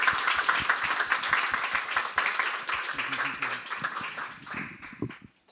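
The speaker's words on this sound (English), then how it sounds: "come and give Anthony a massive round of applause." A live audience at a design industry talk breaks into sustained applause for Anthony, dense clapping filling the room from start to finish, with a few voices mixed in.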